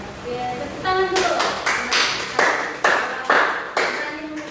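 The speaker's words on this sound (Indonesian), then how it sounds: "tepuk tangan dulu" A group of students claps together in a classroom counseling session, a rhythmic series of sharp hand claps at a steady beat, fairly close and loud over a quiet room.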